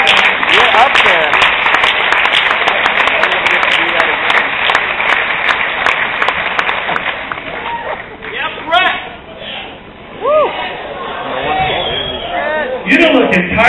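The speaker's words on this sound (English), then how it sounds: "Give them a round of applause" Audience at a jazz improvisation clinic breaks into loud, sustained clapping for an alto and a tenor saxophone player. The applause thins out after several seconds, and a voice then speaks over the fading crowd.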